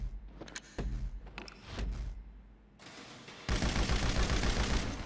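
Machine gun fire at the Ammu-Nation shooting range in GTA V, a video game: after a few sharp mechanical clicks and clunks, a loud, continuous burst of automatic fire erupts and runs through the final seconds.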